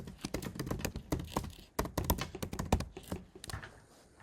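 Quick, irregular keystrokes on a computer keyboard as a page title is typed, a close, dry run of taps with brief pauses and no talking.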